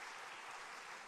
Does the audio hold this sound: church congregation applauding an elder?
yes